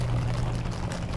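Water beads shaken into a balloon for a craft, a steady dense rushing patter with no breaks, close and fairly loud.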